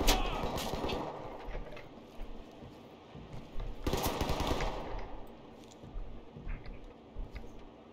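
Gunfire in the tactical shooter Ready or Not: two loud, sharp bursts of shots, one near the start and one around the middle, with quieter scattered game sounds in between.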